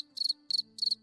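Crickets chirp in three clean, evenly spaced bursts, each a quick rapid trill, faint and isolated against a quiet background hum.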